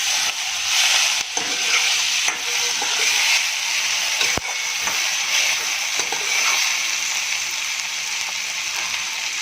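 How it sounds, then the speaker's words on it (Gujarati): Vegetables for veg pulao frying over a high flame, a loud, steady sizzle and hiss with a few sharp clinks of stirring, no talk. "આ બધા વેજીટેબલને આપણે હાઈ ફ્લેમ ઉપર ફ્રાય થવા દઈશું."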